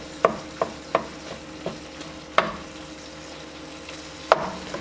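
Ground beef frying in a pan with a soft steady sizzle, broken by a few sharp utensil clinks and scrapes as it is stirred; no voices.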